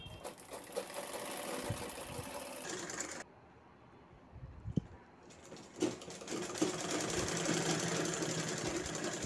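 A sewing machine stitches the corners of a cloth bag in steady mechanical bursts, running loud for about three seconds, pausing into near silence, then whirring again for the last few seconds.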